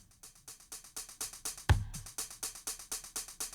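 A chopped acoustic drum set loop, unprocessed and dry, with steady evenly spaced hits and a single heavier low thump near the middle, played alone.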